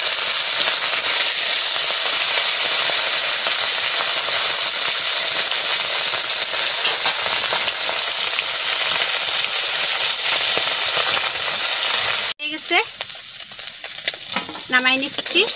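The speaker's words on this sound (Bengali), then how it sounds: "ছোট মাছ দিয়ে দিচ্ছি, তেল গরম হয়ে গেছে।" Small fish fry in hot oil in a wok, a loud, dense sizzling hiss that holds steady for most of the stretch, then cuts off sharply, followed by quieter clinks and a few brief sounds.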